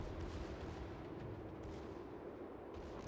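Heavy naval gunfire from the battleship Richelieu in World of Warships, a dense continuous rumble of booming salvos with no speech.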